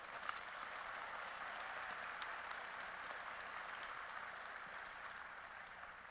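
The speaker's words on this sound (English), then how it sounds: "let's please give these leaders a great round of applause" An audience at a 2018 spring university commencement ceremony applauds, steady dense clapping that sounds fairly distant and even throughout, with no voices over it.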